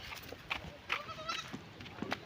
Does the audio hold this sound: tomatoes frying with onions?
no